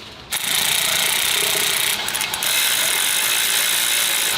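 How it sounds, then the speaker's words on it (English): A ratchet clicks in a fast, steady buzz while tightening bolts on engine headers in a workshop, the mechanism noise loud and continuous from start to finish with a brief stutter midway. "just tightening the bolts on the headers so that they're in place"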